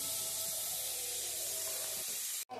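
Chicken and prawns with salt and ginger-garlic paste frying in oil in a pan: a dense, steady hiss fills the space up close, then cuts off abruptly near the end, with no one talking.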